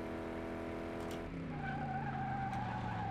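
Tires of a classic Corvette C1 skid and squeal in Car Mechanic Simulator 2018 as the car spins out in fourth gear, a steady screech over the continuous engine drone that shifts pitch midway and holds loud throughout.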